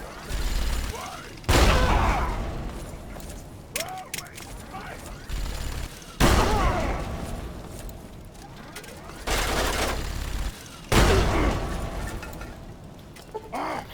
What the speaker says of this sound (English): But I can chuck my grenades over it at you.